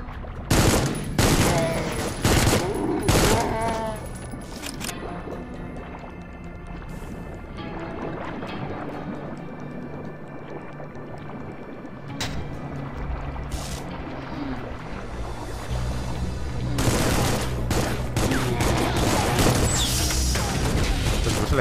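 Rapid bursts of gunfire from the video game Supplice, sharp close shots clustered at the start and again near the end over a low rumbling background.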